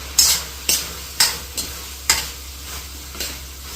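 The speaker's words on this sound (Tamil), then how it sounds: "தூவிட்டு கிளறி விட்டுருவோம்." Puli aval, a tamarind flattened-rice dish, being stirred in a pan after sesame powder is sprinkled over it, with a series of sharp scraping strokes about every half second over a low sizzle, close and loud, no voices.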